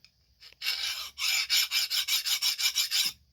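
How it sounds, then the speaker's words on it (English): A fine-tooth file rasps across the hardened edge of a case-hardened wrought iron knife: one long stroke, then a rapid run of about a dozen even, rhythmic scraping strokes, close and crisp, with no talking. "I've got a nice fine-tooth file. We'll try skating the edge."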